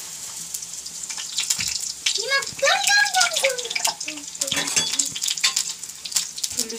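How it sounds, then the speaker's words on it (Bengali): Luchi, puffed Bengali flatbreads, deep frying in a pan of oil, giving a steady bubbling sizzle with stirring clatter, and a voice speaking briefly over it partway through. "এই যে এখানে আমি লুচিগুলো ভেজে নিচ্ছি।"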